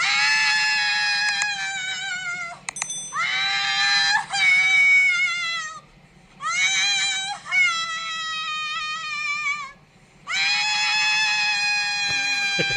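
A woman screams in an apartment in several long, high-pitched bursts separated by brief pauses, loud and close, with a low steady hum underneath.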